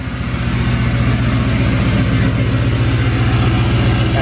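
A 2020 Duramax diesel pickup engine runs at high idle in a cold garage, a loud, steady throbbing clatter with an even pulsing rhythm held throughout.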